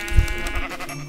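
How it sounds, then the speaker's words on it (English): A sheep in Minecraft gives a single loud, close bleat, a short wavering cry that fades quickly, with no talk over it. "I'm sorry, sheep."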